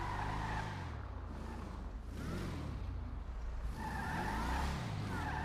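A car skidding in GTA, tires squealing in long sweeping waves over a continuous engine roar, loud and close.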